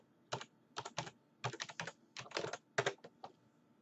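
A computer keyboard clacks as a sudo password is typed, with close, quiet keystrokes in short irregular bursts and brief pauses between them.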